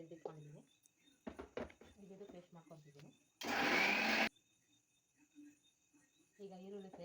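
A mixer grinder grinds onion into paste in one loud, harsh whirring burst of about a second, with someone talking before and after it.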